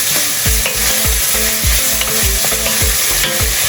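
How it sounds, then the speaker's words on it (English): Onion frying in a pan over medium heat: a steady, close sizzle with rhythmic scraping stir strokes about every half second, no talking. "So this is our onion cooking now."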